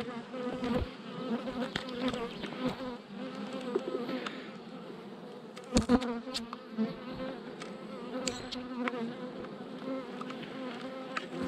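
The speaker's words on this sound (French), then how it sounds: "C'est une abeille qui vole." Honeybees buzz steadily around a beekeeper at an open hive during queen rearing, one bee circling close with the drone rising and falling, a few sharp louder passes near the microphone, no talking.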